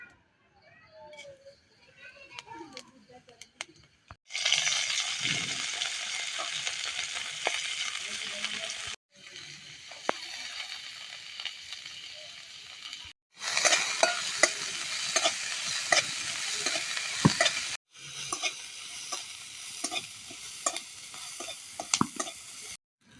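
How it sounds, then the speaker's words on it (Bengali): Cumin seeds frying with chopped onion and garlic in oil in a village kitchen make a loud, continuous sizzle. Scraping stirs break it into long bursts with brief pauses between them. "জিরেগুলো পেঁয়াজ রসুনের সাথে ভেজে নেব"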